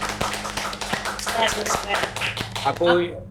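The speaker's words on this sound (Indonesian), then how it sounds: "Boleh tepuk tangan untuk Mbak Ayu dan Mbak Sarah." Audience clapping at an Indonesian event, a burst of hand claps close by under steady talk and tapping, rising briefly near the end.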